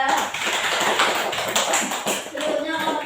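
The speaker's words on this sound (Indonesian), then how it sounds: "Oke, tepuk tangan buat kelompok 2." Students in a classroom applauding a group, with dense and fairly loud clapping that fills the whole stretch, mixed with shuffling and a little background chatter.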